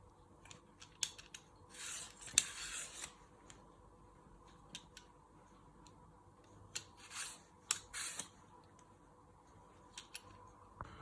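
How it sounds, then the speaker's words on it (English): A vegetable peeler scraping around a turnip, soft rasping strokes in short clustered bursts with pauses between, close and quiet in a kitchen. "And you go round again with your peeler."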